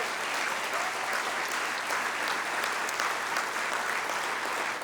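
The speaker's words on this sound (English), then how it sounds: "Let's give them a round of applause." Audience at an athletics hall of fame banquet gives student athletes a round of applause, a steady, dense clapping of many hands at a constant level, with a faint low hum beneath.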